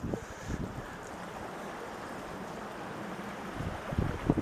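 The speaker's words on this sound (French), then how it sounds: "Le vent, il trouve quand même le tour de venir m'écœurer." Wind gusting among surrounding mountains, a steady rushing roar buffeting the microphone with low thumps, swelling louder near the end, with no one speaking.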